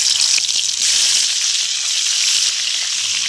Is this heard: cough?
no